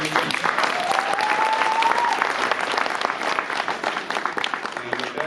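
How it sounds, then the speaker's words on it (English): An audience applauds panelists at a panel event, a sustained dense wash of clapping from a full room that holds steady for several seconds, with a faint whistle-like tone rising briefly through it. "Can we give them a round of applause?"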